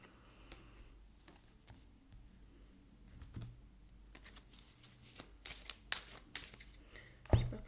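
Tarot cards are shuffled and handled close up, with soft riffling flicks that grow into a quicker run of crisp snaps and slaps near the end.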